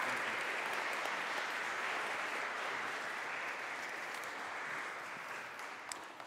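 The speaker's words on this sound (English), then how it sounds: "Round of applause for this guy." A church congregation applauding steadily at a Sunday worship service, a dense wash of clapping that fades slightly toward the end, with a faint voice near the close.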